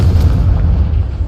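An Incendio fire spell cast in a Hogwarts video game lands as a heavy, deep booming burst with a rumbling, fiery roar that holds loud for the whole moment, then eases slightly.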